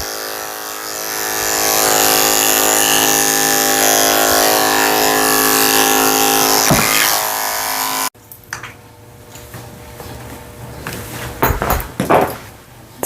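Electric clippers fitted with a #7 blade buzz steadily while trimming a toy poodle's coat for about eight seconds, then cut off, leaving quieter handling noises and a few brief bumps.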